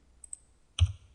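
Keys tapped on a computer keyboard while entering a survey coordinate number: two light, quick clicks, then a louder, heavier keystroke with a soft thump after a brief pause. The keystrokes are close and alone, with no talk.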